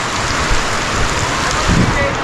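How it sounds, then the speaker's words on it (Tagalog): Heavy rain pours down in a dense, steady roar, loud and close, with a faint voice briefly under it. "Grabe, lakas ng ulan na to."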